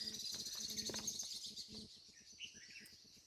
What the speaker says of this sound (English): this is right that at twilight when all the birds are just up in the sky